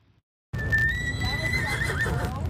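Horses at the annual Cumberland County Exhibition in Oxford let out a loud, close whinny after a moment of silence, with a steady low rumble of hooves and barn noise beneath.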